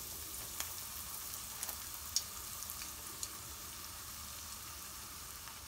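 Coconut-breaded shrimp coated in flour, egg and panko frying in hot oil, giving a steady soft sizzle with scattered small pops and crackles, no talking.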